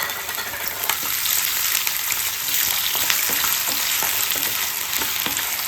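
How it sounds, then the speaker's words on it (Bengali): Potatoes frying in a pan for sabudana khichri: a steady, loud sizzle with occasional light stirring clicks and scrapes, close up and without talk. "আমি এটা আলু ফ্রাই করে বানাচ্ছি"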